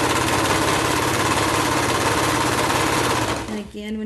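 A sewing machine runs steadily while stitching the side seam of slim joggers, a loud continuous mechanical whirr that cuts out near the end, leaving quiet hum.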